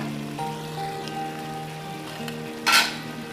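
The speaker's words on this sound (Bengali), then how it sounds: "রাস কুকারে কিন্তু আমি ভালো করে নেড়ে চেড়ে কিন্তু কষিয়ে নিচ্ছি" Chicken sizzles and fries in a rice cooker as it is stirred and sautéed, a steady crackle with scraping stir strokes and a brief louder hiss near the end, with no talking.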